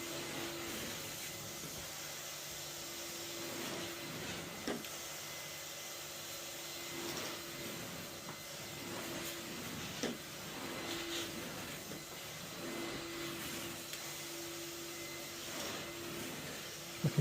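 A carpet cleaning machine making dry extraction passes over a wool carpet with some moth damage, giving a steady droning whir with brief clicks and bumps throughout.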